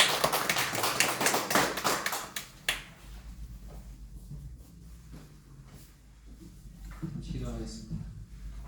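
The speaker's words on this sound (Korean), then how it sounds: "우리 환영의 박수로 맞이하겠습니다" A church congregation gives dense welcoming applause for about two and a half seconds during a Sunday morning service. The clapping stops abruptly, leaving a quiet room with faint low rumble and a few later sounds.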